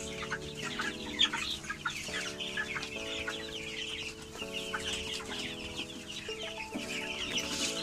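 Flock of chickens clucking steadily inside a poultry house of broilers, with a constant overlapping chorus of soft, busy calls and chatter continuing throughout without pause.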